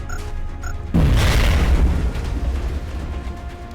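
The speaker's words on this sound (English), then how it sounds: "Grenade out." A grenade detonates in the video game XCOM Enemy Within, one sudden loud boom with a deep rumbling tail that slowly fades, no voices over it.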